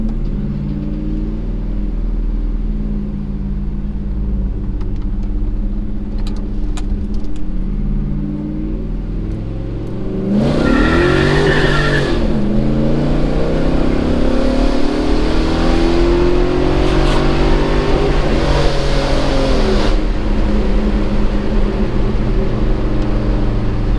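A Chevrolet S-10 pickup with a swapped 5.3 LS V8 idles steadily, then revs hard and accelerates through rising, shifting engine tones, loud and close with no talking.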